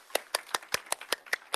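Brief, evenly spaced clapping at a conference session, about eight crisp claps in steady rhythm, sounding like a few hands rather than a full crowd.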